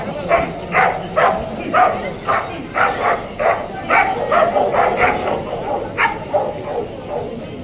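A dog barks repeatedly during a protection training demonstration at a kennel association dog show in Pandharpur. The barks are loud, close yips in a quick, uneven series.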